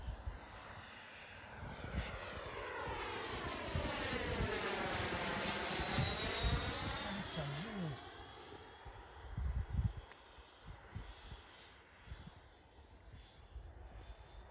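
An HSD F-86 Sabre model jet flies past at a model flying club, its turbine whine sweeping up and then down in pitch as it approaches and recedes, with faint voices nearby.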